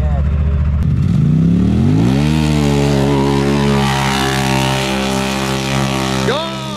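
A Stage 6 Pro XP launches hard down a drag strip, its engine roar climbing steeply in pitch as it accelerates, loud and close, then easing off near the end.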